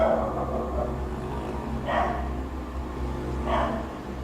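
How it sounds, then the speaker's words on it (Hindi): Dogs bark a few times in the distance, short bursts spaced about every second and a half over a steady low background hum. "आप कुत्तों की आवाज़ें सुन रहे होंगे"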